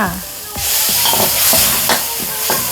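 Chili and garlic being stir-fried in a pan for a Thai pork belly and shrimp paste dish: steady loud sizzling with repeated scraping strokes of a spatula, close and continuous with no talk.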